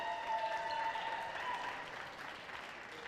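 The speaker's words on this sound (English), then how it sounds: "Big round of applause for Diana Garcia." Crowd applause at a women's beach volleyball open semi-final, a dense wash of clapping that holds steady and then eases slightly, with faint background voices mixed in.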